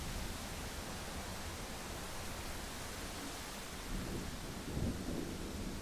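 Steady rain hisses without pause in a thunderstorm, and a low rumble of thunder rises near the end.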